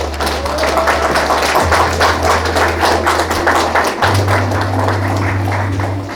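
Loud, continuous applause fills an award ceremony hall, steady clapping from a crowd with a low hum running beneath it.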